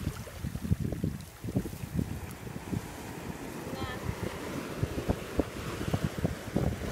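Sea waves splashing and sloshing against a small boat, a continuous rough wash with wind buffeting the microphone and irregular bursts of water close by.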